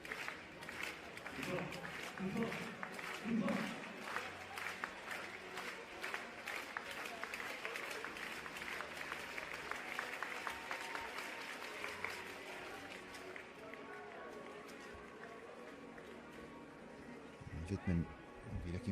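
Applause and rhythmic clapping from a crowd fill an indoor athletics meeting in Lyon, a steady patter spread through the hall while a commentator talks over it.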